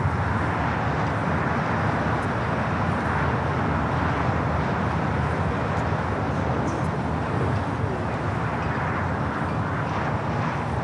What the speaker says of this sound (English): our first arrival, 25 left. KLM Flight 603. It's the second flight coming in from Amsterdam. 777-200ER.